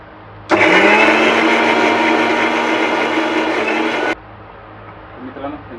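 An electric mixer grinder whirs loudly and steadily for about four seconds, blending cut onion into a fine paste, then cuts off abruptly, leaving faint room noise.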